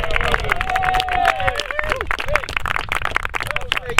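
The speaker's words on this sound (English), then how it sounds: "So a big round of applause there." Crowd at an end-of-season rugby club awards night giving a round of applause, dense clapping mixed with cheers and loud overlapping chatter throughout, close and sustained.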